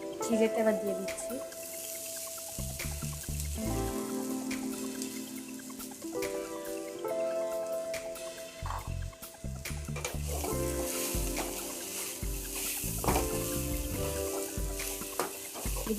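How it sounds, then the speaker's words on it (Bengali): Flattened rice being tipped into an oiled pan and stirred, a patter and rustle over a low sizzle with scraping spoon strokes, a voice talking over parts of it. "চিড়েটা এবার দিয়ে দিচ্ছি।"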